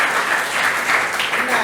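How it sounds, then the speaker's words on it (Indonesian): Students in a classroom give a short burst of steady, close applause with no pauses. "tepuk tangan dulu dong ya untuk semuanya."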